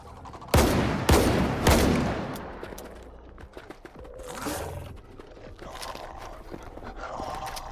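Loud shotgun blasts in the video game STALKER 2 come in quick succession, each a sharp, booming report with a long tail. Quieter game ambience and creature noises follow.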